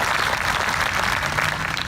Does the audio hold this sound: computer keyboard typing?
no